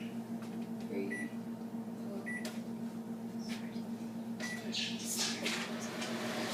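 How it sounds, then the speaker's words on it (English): A microwave oven heating a dish of peanut butter hums steadily at a constant low drone, with a couple of short beeps and faint clicks and rustles over the top, and no one speaking. "Microwave for 30 seconds."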